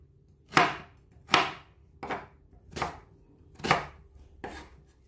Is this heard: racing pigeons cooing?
no